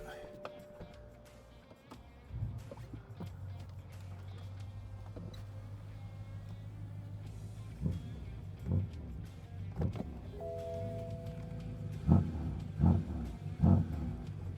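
A 560 hp BMW M5 engine cranks and fires up into a steady low idle, followed by several sharp revving blips near the end, with faint talk in the background.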